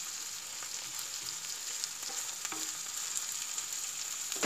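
Shrimp, basil and yellow mushrooms stir-frying in a pan give a steady, fairly quiet sizzle with occasional light scrapes and clicks, and no talking.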